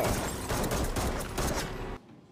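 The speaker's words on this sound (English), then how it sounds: "Michael should have heard that gunfire as well" A dense burst of gunfire from a TV show scene, rapid overlapping shots crackling loudly for about two seconds before cutting off abruptly into near silence.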